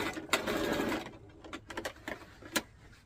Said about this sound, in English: I'm gonna sew it. So we're just sewing the corner